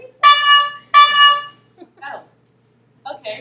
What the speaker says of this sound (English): 2 honks means no, and 1 honk means yes.